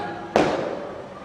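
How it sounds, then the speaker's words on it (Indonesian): A firecracker goes off at a large outdoor religious gathering: one sharp bang with a short decaying tail over steady crowd and room noise. "Itu petasan buat siapa itu?"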